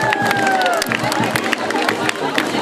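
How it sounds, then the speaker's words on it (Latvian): A street crowd at a Jelgava city festival parade claps and cheers loudly, dense rapid clapping with whistles and shouts, close and continuous throughout. "sagaidām ar aplausiem un ovācijām"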